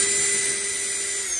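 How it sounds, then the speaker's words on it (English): A power drill runs steadily on a low setting, backing out chrome trim screws on a 1984 El Camino being stripped for a candy paint job, a continuous close whine with no pauses. "put that drill on that low setting so you don't spin off the screw"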